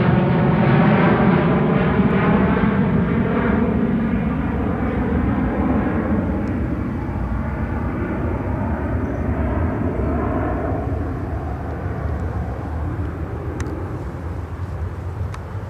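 An airplane roars steadily at Seattle-Tacoma International Airport, a loud broad jet rumble with a slowly shifting whine that gradually fades as it moves off.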